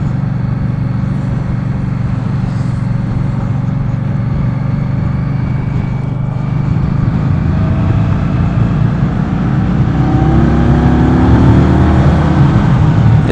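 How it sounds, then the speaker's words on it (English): Engine of a 2015 Indian Scout motorcycle, heard from the rider's seat on the move, drones steadily and loudly throughout with a gradual rise in revs toward the end, mixed with wind rush. "I can hear the engine a little bit."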